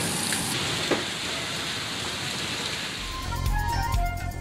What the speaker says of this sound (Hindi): कहीं हल्की बारिश, कहीं बूंदाबांदी से मौसम खुशगवार।